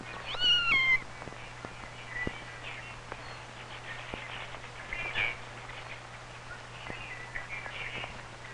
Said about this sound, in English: A lost kitten.